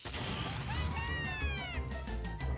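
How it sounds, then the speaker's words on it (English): A small pet kitten meows indoors, a single rising-and-falling cry, fairly faint over the steady rumble of a Mortal Kombat video game. "Look at our little itty bitty kitty just looking at the stuff."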